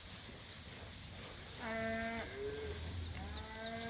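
Cattle on a farm, with a drawn-out bellow and a shorter moo rising over a background of outdoor noise, close and moderately loud.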